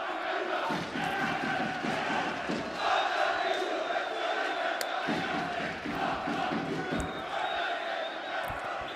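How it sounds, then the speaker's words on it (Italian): Rival fan groups at a roller hockey derby chant and roar in an arena, a dense, sustained crowd din with rhythmic pulses heard from a distance under a commentator's voice. "Naturalmente in sottofondo c'è anche il derby tra le due tifoserie"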